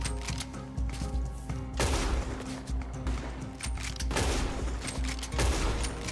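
Rapid gunfire in Red Dead Redemption 2, bursts of loud overlapping shots in a heavy exchange, clustered around the middle and end with quieter rumbling gaps between.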